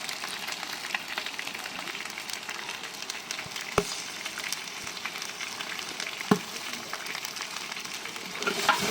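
Food fries steadily in a pan with turmeric and salt, a soft continuous sizzle broken by a couple of sharp spoon taps as it is stirred, with no talk.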